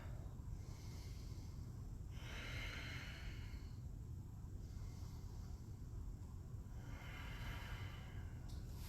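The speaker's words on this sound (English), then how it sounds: "Let's take 3 deep breaths together. Focusing on that exhale." Slow, deep breaths during a standing yoga session: three faint, drawn-out airy exhales in an even rhythm, quiet and close, with nothing else heard.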